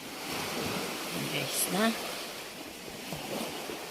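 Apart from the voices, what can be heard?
sea waves at white sand Patar beach, Bolinao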